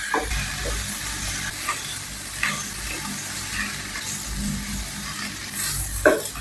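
Tomato paste, crushed pepper and paprika stirred in a hot frying pan, a steady sizzle with scraping strokes of the spoon and a few sharper clacks against the pan.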